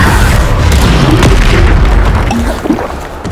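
A Bombarda explosion spell blasting in Hogwarts Legacy, a loud deep boom that swells and rumbles for a few seconds before fading.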